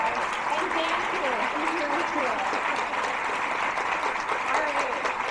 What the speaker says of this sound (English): let's give Lee and Jerry a big round of applause.